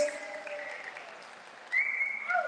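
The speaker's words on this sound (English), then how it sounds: "Big round of applause." An audience at a cryptid conference applauds with broadband clapping, cheering and a whistle or two, rising sharply partway through.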